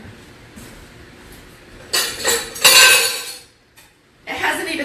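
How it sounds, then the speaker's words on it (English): A metal whisk is set down on a kitchen counter, giving brief close clinks and clatter in a few bursts, and a voice speaks around it. "I'll put my whisk over there."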